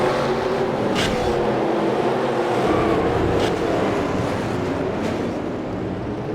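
An onboard race car engine in a stock car racing game at New Hampshire gives a steady, loud, dense roar with constant wind-like rushing and no audible speech.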